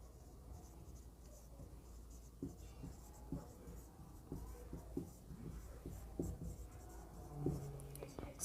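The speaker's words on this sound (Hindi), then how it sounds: "मैं लिख देता हूँ" Marker or chalk strokes scratch across a board during a grammar lesson, a quiet run of short scraping strokes with faint, soft talk nearby.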